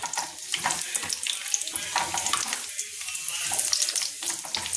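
Hot oil sizzles with ingredients dropped in for dal tadka, a loud, crackling, hissing spatter close by that keeps bursting and settling with watery, stirring textures.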